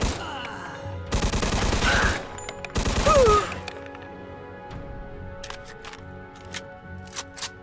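Thompson submachine gun in the video game Mafia firing two rapid, loud bursts of automatic fire, followed by quieter clicks and mechanical handling noises.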